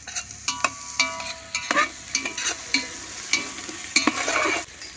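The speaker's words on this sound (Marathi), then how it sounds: "आता आलं लसूण टाकते. हा, आता हे थोडं परतते मी" Ginger and garlic sauté in hot oil for Khandeshi khichdi, giving a close, steady sizzle broken by sharp scrapes and clacks of a stirring spoon against the pan, with no talk.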